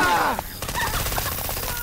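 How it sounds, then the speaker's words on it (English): Frag rounds firing in Left 4 Dead 2: a loud, rapid burst of gunfire with a sharp opening shot, then a quick string of booming, crackling rounds that keeps going over a short stretch. "Deploying frag rounds."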